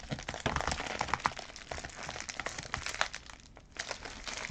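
Bubble mailer holding Pokémon cards being torn and opened, with loud continuous crinkling and crackling of padded plastic throughout, sharp rips and crunches close to the microphone, no talking.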